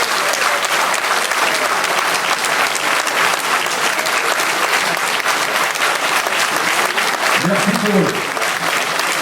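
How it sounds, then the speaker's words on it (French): Steady applause from an audience at a campaign gathering, dense and loud throughout, with a few voices and a single spoken word rising briefly near the end. "je voudrais vous demander de les applaudir parce qu'ils ont tous bien bossé pendant cette campagne"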